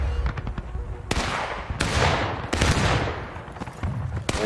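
Musket volleys crash out in a large multiplayer War of Rights battle at a redoubt, several loud sharp discharges with long rolling echoing tails, some near and some farther off, overlapping in an uneven ragged fusillade.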